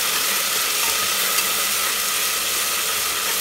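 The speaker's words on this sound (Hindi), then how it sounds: "इसमें हमने चटनी डाल देंगे और इसको थोड़ी देर के लिए भून लेंगे" A constant, loud sizzle of chutney with ginger-garlic paste frying in a pan, an unbroken bright hiss holding level from start to finish with no voices.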